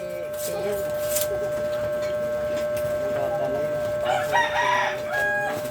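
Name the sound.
chickens, hen with chicks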